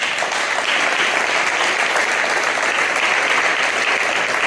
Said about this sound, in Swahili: Unaweza kumpigia Yesu makofi tafadhali?